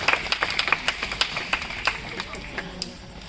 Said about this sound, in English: Give a round of applause to Toby our White Raccoon.